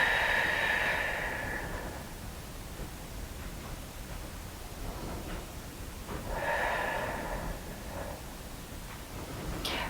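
Deep, slow breathing during a grounding mobility flow on a mat: a long breathy exhale at the start and another audible breath a few seconds later, both close and soft over steady hiss, with no talk.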